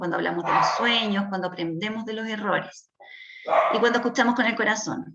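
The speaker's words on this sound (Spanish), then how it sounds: "perdón mis perros" Pet dogs bark in the background, partly masked by continuous talking in Spanish.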